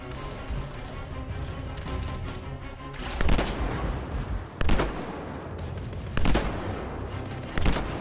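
Sniper rifle fire in the video game Anthem: four sharp, loud single shots spaced a second or more apart, each cracking over a constant bed of busy game background noise.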